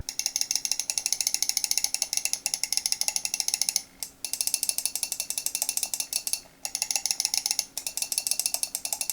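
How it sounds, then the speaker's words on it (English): Switches of a Razer DeathAdder V4 Pro gaming mouse click loudly and rapidly in dense, continuous bursts, broken by two brief pauses, close up with no talking. "The sound the switches make is really loud"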